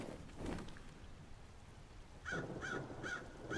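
Crows caw in a steady run of three or four calls over soft rain-like ambience in the Lord of the Rings: Gollum video game, fairly distant and quiet, with no voices.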